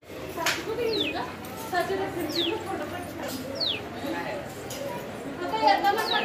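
Several quick high chirps and short whistled calls from birds at a Datta temple in Narsobawadi, moderately near, with children's voices and murmuring chatter in the background throughout.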